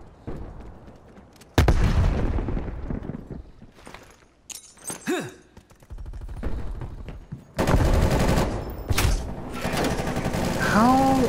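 Frag grenade blasts and gunfire in Call of Duty: Black Ops Cold War online play, with loud booms and bursts of automatic fire coming in waves over game effects, and players talking at moments.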